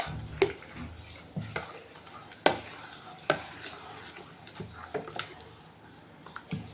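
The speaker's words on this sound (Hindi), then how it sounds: "और अब इसको अच्छी तरह से चम्मच की मदद से मिला लेंगे।" A spoon stirs dhokla batter mixed with fruit salt in a bowl, giving repeated soft scrapes and sharp clinks against the side at an irregular rhythm, close and moderately quiet.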